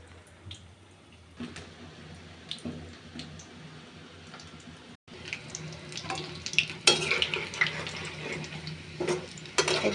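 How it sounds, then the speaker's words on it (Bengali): Cauliflower pakoras frying in oil, a quiet bubbling sizzle that turns louder and more crackly midway as they are turned, with occasional stirring knocks. "এই যে আমি পাকোড়াগুলো উল্টে পাল্টে ভেজে নিচ্ছি।"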